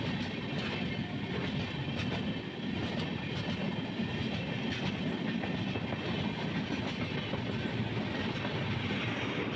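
The Kerala Express passes through Edappally railway station, a loud continuous rumble with rhythmic clickety-clack of wheels over rail joints, close and steady throughout.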